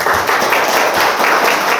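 Seminar audience applauds to welcome the company head, a dense, steady burst of many hands clapping at close range with no talk over it.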